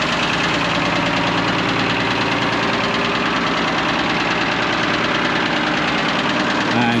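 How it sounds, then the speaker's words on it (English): Ford engine on an old Hymac excavator idling smoothly, a loud, steady close rumble with a fine rhythmic knock throughout and a voice faintly underneath. "It's a Ford engine, same as what's in our own hymac at home. Running nice and sweet."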